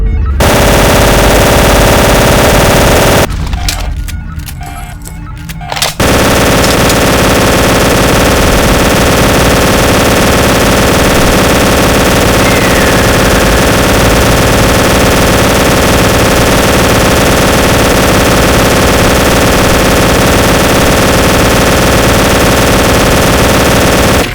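Long sustained bursts of MG42 machine gun fire in Garry's Mod, loud and dense, run almost continuously apart from a brief pause early on.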